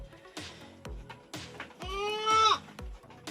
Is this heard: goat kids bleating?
yes